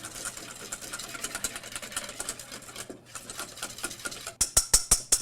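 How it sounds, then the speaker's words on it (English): A whisk beats chocolate cream pie filling with cornstarch in a bowl, a fast, rhythmic clatter of close strokes, pausing briefly before a few louder, sharper taps near the end. "Then whisk this up"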